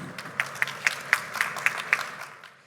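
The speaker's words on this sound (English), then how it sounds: "Can we please welcome him on stage with a huge round of applause?" Audience applause welcoming a speaker on stage at a cinema industry expo session, a short burst of scattered hand claps, modest and somewhat distant, settling over under three seconds.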